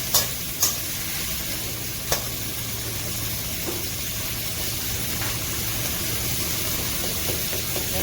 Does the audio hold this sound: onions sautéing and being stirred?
yes